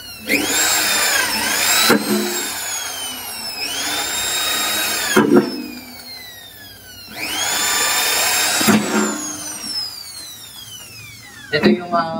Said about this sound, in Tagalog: Ang gagawin natin dito guys is bubutasin natin to gamit ng drill bit na pang metal